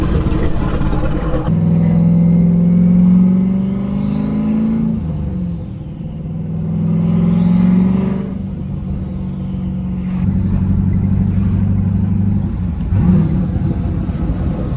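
A manual-swapped Hellcat Charger rumbles along on the road, its engine droning steadily and loudly from inside the cabin, with two rising revs as it shifts through gears.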